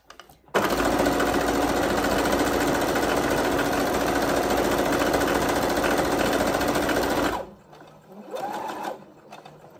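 Sewing machine running steadily at a fast, even stitch rate while joining fabric scraps for a daisy-patterned bookmark, then stopping abruptly, followed by a short, quieter burst of stitching near the end.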